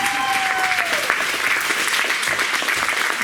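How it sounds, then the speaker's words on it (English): A crowd gives sustained applause as speaker Rich Rice is welcomed to a real estate mindset talk, a thick, even wash of clapping filling the room, with a brief whistle-like tone fading at the start. "Let's give Rich a round of applause."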